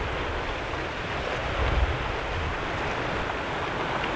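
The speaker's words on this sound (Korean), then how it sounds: "파도 소리" Sea waves wash onto the rocky winter shore at Bangeojin, Ulsan, a steady broadband roar with wind noise and no talk, swelling slightly near the middle.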